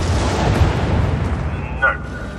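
Artillery strike explosions rumble in the Helldivers video game, a dense continuous low barrage of booms with a brief tonal radio-like chirp near the end and speech-like voices mixed in.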